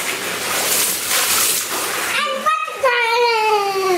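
Water sloshes and splashes in a bubble bath being filled, a broad hissing wash close by, and then a voice and an adult's voice come in over the water toward the end.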